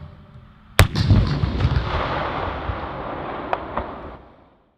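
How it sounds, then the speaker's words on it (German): A Leopard 2A6 tank fires its main gun: one sharp, loud blast followed by a long rumbling roll and echo that fades over several seconds, with a couple of faint later cracks and no voices. "Feuerbereitschaft gesetzt, es erfolgt selbstständiger Schuss."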